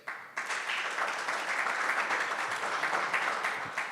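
A crowd at a candidates forum applauds, a dense wash of clapping that starts abruptly and holds steady for several seconds at moderate distance.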